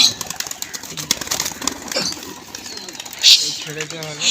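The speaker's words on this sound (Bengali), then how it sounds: "এই দাদা পায়রা ছেড়ে দিচ্ছে" Racing pigeons are released, flapping their wings in bursts of fluttering, with soft cooing and people talking nearby over outdoor background noise at a pigeon tournament.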